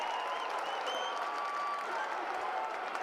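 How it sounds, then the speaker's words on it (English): Steady, dense applause from a football crowd at a WAFL reserves grand final between Perth and Subiaco, sustained and even throughout, heard from a distance. "And the crowd acknowledged the efforts of McPartland"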